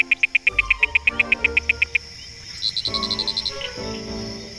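Frogs calling on a summer night, a chorus of rapid pulsed trills; one loud, evenly spaced series repeats for two seconds, then a quicker, higher series follows, over lower croaks and a background hum of insects, with no speech.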